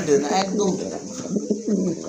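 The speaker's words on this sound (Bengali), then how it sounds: "আরেক জোড়া মুন্ডিয়ান দেখতে পাচ্ছেন খুবই সুন্দর ভালো কোয়ালিটির এক জোড়া কবুতর" A pair of Mundian pigeons coo in low, throaty warbling calls up close, with people's voices mixed in.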